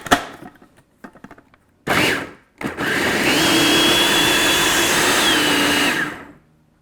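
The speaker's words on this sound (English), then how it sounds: "Now we'll put on our lid and mix it on high." A blender whirs on high, mixing a thick peanut butter frosting, loud and steady for about three seconds after a couple of short pulses; no talking.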